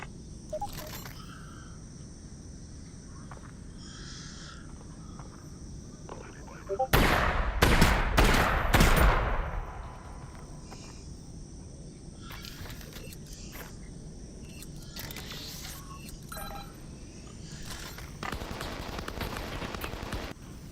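Video game shotgun fire, a few sharp loud blasts clustered together in the middle, set against quieter game ambience with scattered smaller clicks and hits.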